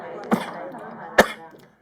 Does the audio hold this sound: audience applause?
no